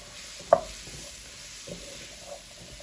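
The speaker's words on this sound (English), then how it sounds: "we're going to give that a stir" Garlic, onions and carrots are stirred in a pan with a soft low sizzle, opening with one sharp scrape of the utensil, then a couple of quieter ones.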